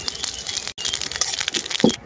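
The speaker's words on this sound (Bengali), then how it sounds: "তেলের মধ্যে দিয়ে দেব গোটা জিরে।" Whole cumin seeds sizzling and crackling in hot mustard oil in a kadai, a steady bright frying hiss with small popping crackles throughout, close and alone.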